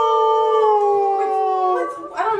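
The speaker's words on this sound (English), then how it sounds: "Oh, she's whimpering." A young puppy whimpers in a long, steady, high-pitched whine close by, sliding into a louder, wavering squeal at the end, with no talking over it.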